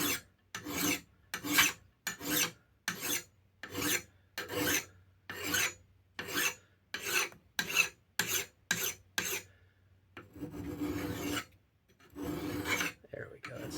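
Hand file strokes on hard steel clamped in a vise while restoring a Rixford axe, about fifteen rhythmic rasping pushes with short pauses between them, close and clear, then a rougher scraping at the end.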